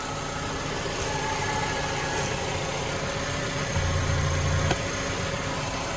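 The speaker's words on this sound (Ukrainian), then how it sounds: "Двигун працює чисто, рівно, не димить, не сапунить." A VW Golf 5 with the 1.6 MPI engine and automatic gearbox idles steadily, a low even hum with faint mechanical whir and no voices.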